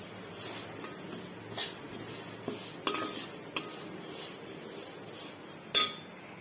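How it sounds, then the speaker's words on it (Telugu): Sesame seeds roasting in a pan over low heat, stirred with a metal utensil: a quiet run of close, sharp clinks and scrapes against the pan at an irregular pace, with a soft sizzle underneath. "ఫస్ట్ అయితే నువ్వులు వేయించుకుంటున్నాను"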